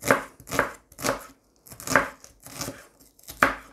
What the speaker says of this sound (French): J'épluche les oignons. Après, je les coupe en très petits bouts.